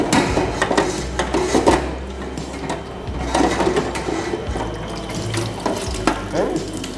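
Water pours steadily over soil held in a laboratory sieve, a continuous running splash with clattering and knocking of the equipment mixed in, close and fairly loud.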